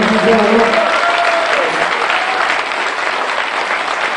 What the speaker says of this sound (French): Et je vais applaudir encore bien fort